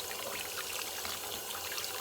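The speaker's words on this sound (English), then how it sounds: "And you will want to rinse this really well." Running water pours and splashes steadily over a greasy stove hood filter during rinsing, a continuous close hiss and trickle with no talking.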